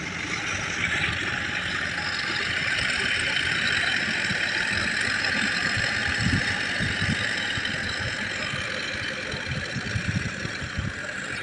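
A tractor engine runs steadily in a farm field being readied for paddy, a loud continuous rumble with a constant drone throughout, close by.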